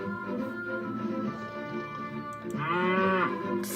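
A cow in the video game Aiden's Adventure lets out one short, loud moo near the end, following a steady tonal game background with no speech.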